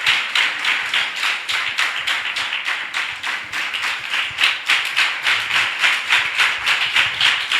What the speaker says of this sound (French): Il faut applaudir pour le roi des rois.